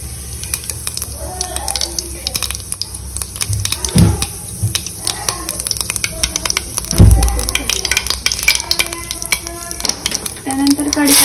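Cumin and mustard seeds fry in hot oil in a pan while masala dosa filling is made, with steady sizzling, a spoon stirring and scraping against the pan, and a few louder clanks along the way.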